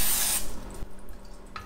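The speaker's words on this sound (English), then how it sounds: "spray it with non-stick spray." Non-stick cooking spray hisses from a can onto an 8x8 baking pan in a short close burst, then quieter handling noise follows.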